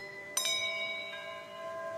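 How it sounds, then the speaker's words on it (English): Three bells ring out a short memory pattern, each with a bright, clear strike that leaves a long shimmering ring fading slowly beneath a soft background hum. "3 bells will play a pattern. He must repeat it exactly."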